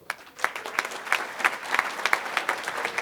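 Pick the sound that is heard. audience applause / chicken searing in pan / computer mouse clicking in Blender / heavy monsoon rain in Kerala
audience applause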